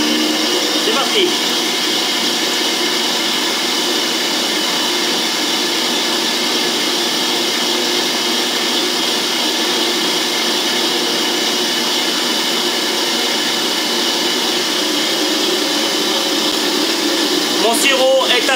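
An electric mixer whips Italian-style meringue for rose macarons in a home kitchen, a loud, steady motor whir that runs unbroken from start to finish, close by.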